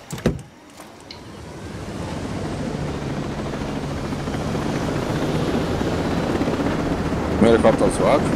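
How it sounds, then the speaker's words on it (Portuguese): Helicopter in the video game Ghost Recon Breakpoint, a steady loud rotor and turbine drone that builds over several seconds, with a short voice near the end. "O helicóptero tá zoado?"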